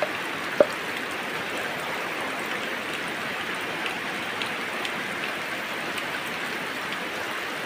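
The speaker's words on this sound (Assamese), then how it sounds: "এই শাৰদীয় বৰষুণ" Steady autumn rain falls outdoors among plants, a continuous even hiss of drops on surfaces at moderate volume, with one faint tap near the start and no voices.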